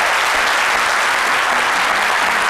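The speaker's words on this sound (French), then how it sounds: "Monsieur André Bro Mensa, que je vous demande d'applaudir très fort." Loud, dense applause from a TV studio audience welcoming a guest onto a midday show, continuous and close for a few seconds.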